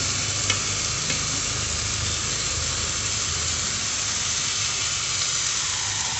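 Potato and eggplant pieces frying in a pan with onion and tomato, a loud, even, continuous sizzle and hiss with faint stirring taps early on.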